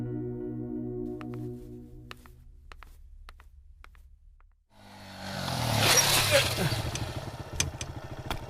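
A motorbike engine rumbles up after a quiet stretch and keeps running loudly with a rough, throbbing drone while the bike is ridden; talk and music-like tones come before it.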